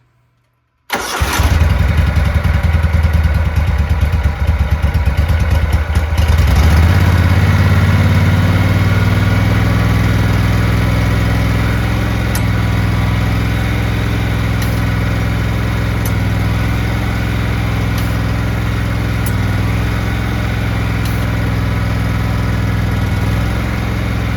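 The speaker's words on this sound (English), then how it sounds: "maybe we'll give it a final try out with the engine running" A Cub Cadet lawn mower's small engine cranks and catches, then settles into a steady, loud idle that runs on without a break, close by.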